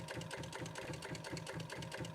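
A sewing machine stitches upholstery fabric for a chair, running in a steady, rapid mechanical rhythm of repeated needle strokes, close and continuous with no talking.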